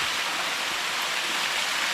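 Forest stream in the Nallamala hills pouring down into a waterfall, a steady broadband rush of flowing water at constant loudness with no voices and no pauses.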